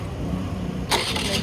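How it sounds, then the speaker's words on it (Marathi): A scooter's engine cranks and catches in a short, close burst near the end, after a stretch of low background hum. "स्कूटी फायनली चालू झाली आहे का नाही ते आपण बघूया"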